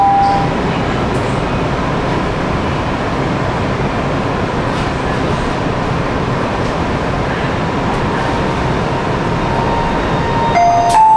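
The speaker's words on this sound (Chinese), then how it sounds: "The train is starting." Inside a Wuxi Metro Line 1 subway train in an underground section, a dense, steady rumble and rolling roar fills the cabin as the train pulls away, with faint tones near the end.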